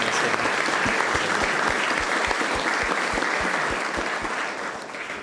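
Steady audience applause after a talk on localising a narrative game into 11 languages, a full round of clapping with a rhythmic low thumping underneath, tapering slightly toward the end.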